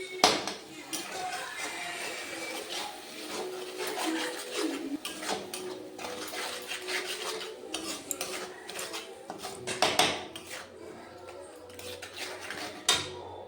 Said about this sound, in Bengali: ভালো করে এবার মশলাটা কষে নেব